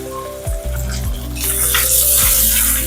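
Sliced onions dropped into hot oil with fennel seeds and curry leaves, breaking into a loud, continuous close sizzle that swells midway and holds, with light stirring knocks underneath.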